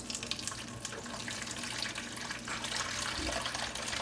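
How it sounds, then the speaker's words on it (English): Fresh water runs from a tap over sliced eggplant rounds in a kitchen sink, a steady close splashing stream with shifting gurgles as the slices are rinsed, no talking. "you can go ahead and rinse them off with some fresh water"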